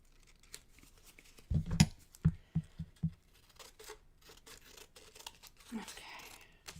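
Crafting paper is cut with scissors in a short run of crisp snips and crinkles, close and fairly clear, followed by rustling handling of the paper.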